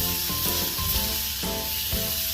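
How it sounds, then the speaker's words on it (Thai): Pork belly stir-frying in a wok as its fat renders, giving a loud, steady sizzle with brief scraping stirs every half second or so, close up and uninterrupted. "เริ่มผัดผัดนิดหน่อยค่ะ ให้น้ำมันหมูออกมานะคะ"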